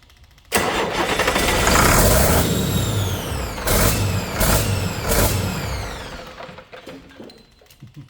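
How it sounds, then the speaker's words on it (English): An old Detroit 40 series turbo diesel generator engine cranks over on the starter for several seconds, loud and close, with repeated surges as it turns and then winds down. "we'll get cranking away on it and get these injectors bled."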